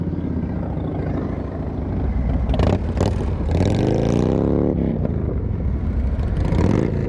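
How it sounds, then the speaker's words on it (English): Motorcycle engine riding along, a loud, steady drone that rises in a swelling rev partway through and then settles back, with clattering wind and road noise and no talk. "Oh, that bike sounds so good."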